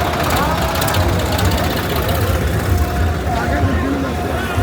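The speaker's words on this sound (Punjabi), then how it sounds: "ਨਗਰ ਕੀਰਤਨ ਦੇ ਪਹਿਲੇ ਟਰੈਕਟਰ ਦੀ ਝਲਕ ਪੈ ਗਈ ਆ" A tractor leading a Nagar Kirtan procession, used to spray perfume over the crowd, rumbles in a dense, steady engine drone amid loud surrounding crowd noise.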